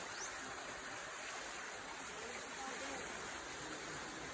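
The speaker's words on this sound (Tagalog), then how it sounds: "Mahina po yung tubig, no?" A gentle stream flows steadily at a river spot in the Philippines, its soft, even broadband rush continuous throughout and fairly distant, with no talk standing out.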